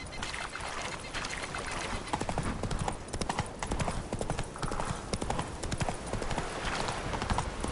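Roach, the horse in The Witcher 3, gallops with loud, close, rapid hoofbeats in a steady rolling rhythm that runs the whole way through.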